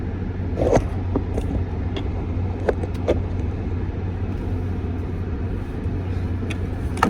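A car is driven and parked, a steady low engine and road rumble running throughout with a few light clicks and taps inside the cabin.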